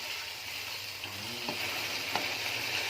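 Chicken keema frying in a pan for a cabbage keema dish, a steady broadband sizzle that fills the whole clip at close range, with a couple of faint stirring scrapes and no talking.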